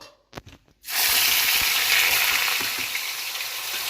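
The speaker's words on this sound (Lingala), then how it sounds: "Tokomi sikoyo na ntango bamama ya kotia makayabu na biso na moto." Salted fish (makayabu) is laid into hot oil over a fire. A few soft clicks and knocks come first, then a loud, steady sizzle bursts in and holds, easing slightly toward the end.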